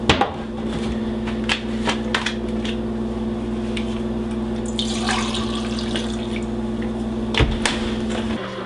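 Water running from a tap to fill a glass, a steady close hiss of flow over a constant low hum, with small clinks and no talk.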